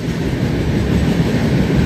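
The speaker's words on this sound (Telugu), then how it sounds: "ఈస్ట్ కోస్ట్ ఎక్స్ప్రెస్ అయితే స్కిప్ చేస్తుంది కొవ్వూరు రైల్వే స్టేషన్" East Coast Express train rushing through Kovvur railway station without stopping, a loud continuous roar of rail noise close by throughout.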